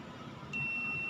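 A multimeter starts a steady high beep halfway through while probing a diode on an LED backlight driver board, a single continuous tone that stays loud to the end.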